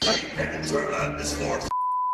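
A voice talks until a single loud, steady censor-style bleep tone cuts in and holds to the end.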